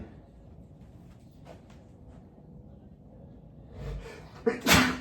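A single sharp sneeze bursts out near the end after a quiet stretch, preceded by a short intake of breath.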